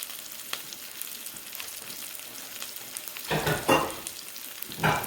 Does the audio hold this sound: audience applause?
no